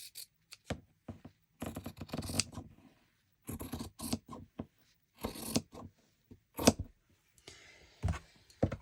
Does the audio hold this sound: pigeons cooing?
no